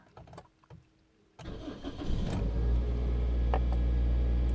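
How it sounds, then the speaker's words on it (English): A car engine cranks and fires after a few quiet clicks, then settles into a loud, steady low idle during warm-up after sitting unused for a few weeks. "So you have almost start the engine, and the vehicle is in warm up period."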